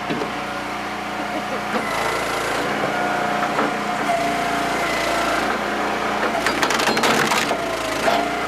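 Huge oak log split by an Eastonmade Axis wood splitter, with wood creaking, cracking and splintering in bursts over the steady drone of the machine's engine, loud and close.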